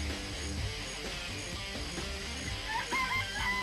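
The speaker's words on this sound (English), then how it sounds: "I remember there were some chickens in the chicken coop." Chickens cluck and crow in a coop in the Danganronpa video game, short fowl calls sitting over steady game background music.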